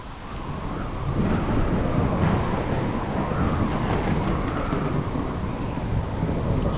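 Thunderstorm in the video game The Solus Project: heavy, steady rain with deep rolling rumbles of thunder, loud and continuous throughout, with no speech.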